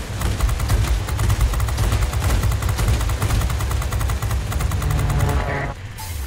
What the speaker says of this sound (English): Hub-mounted cannon is a beast.